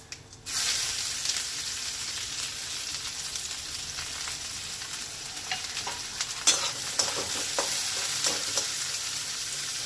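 Chopped onion, whole cumin and a slit green chili drop into hot oil, and a loud sizzle bursts in after a brief quiet moment, then holds steady with scattered crackles and pops close by.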